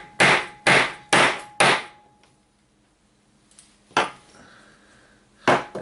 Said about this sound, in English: I just give it a few good whacks with this little 8-ounce hammer